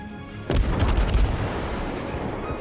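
Naval gunfire from a cruiser in World of Warships: a sudden heavy boom lands half a second in, then a rumbling wash of lower blasts and crackle that slowly fades, with no voices over it.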